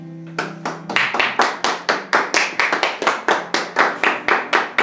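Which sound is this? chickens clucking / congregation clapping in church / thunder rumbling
congregation clapping in church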